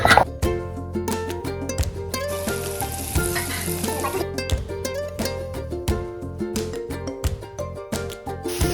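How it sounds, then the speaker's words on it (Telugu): Onions fry in hot oil for a chicken curry, a steady crackling sizzle up close, broken by frequent scraping stir strokes and clinks from a utensil against the pan. "ఉల్లిపాయలు గోల్డెన్ కలర్ వచ్చే వరకు వేగాలి"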